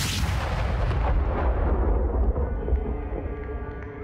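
StarCraft 2 gunshot, a single heavy blast followed by a long rumbling decay and fading echo, loud and alone.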